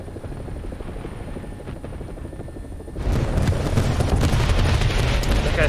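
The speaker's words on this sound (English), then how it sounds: "we got the UH-1 coming" UH-1 helicopter flying in a video game, an AB 205 A-1 Italian UH-1H: rotor thump and turbine drone at moderate level, growing noticeably louder and closer partway through, with faint crackles of distant gunfire.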